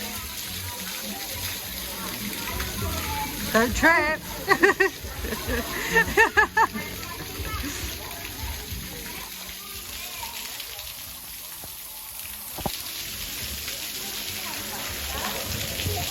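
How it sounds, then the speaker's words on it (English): Water sprinklers spray across a sunny deck of the P&O Iona cruise ship, a steady hissing patter with splashes, while people talk and call out nearby. "He loves these water sprinklers here on this side."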